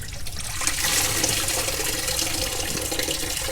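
Coolant drains from the engine of an off-road micro RV during a water pump repair, a steady splashing gush of liquid running without a break, fairly close and loud, with no talk over it.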